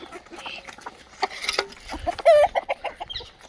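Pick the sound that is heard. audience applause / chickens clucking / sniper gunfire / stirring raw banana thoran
chickens clucking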